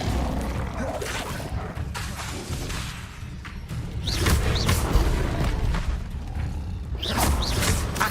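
Spellcasting in Hogwarts Legacy with the fire spell Incendio, heard as a string of whooshing bursts and thuds that come and go under a busy game soundscape, with no voice over them.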